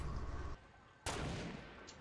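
Two sharp, heavy revolver shots crack out in Fortnite, the second striking hard after a brief quiet gap and ringing off with a fading tail.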